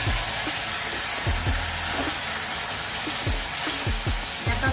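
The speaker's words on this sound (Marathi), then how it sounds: "आता त्याच्यात वाटप टाकूया।" Masala paste frying in hot oil with browned garlic for a Malvani Bombay duck curry, a loud continuous sizzle with periodic scraping stirs of a spoon against the pan, no talking.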